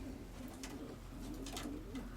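A pigeon coos softly, a few low throaty murmurs repeating in a gentle rhythm against a quiet background hum.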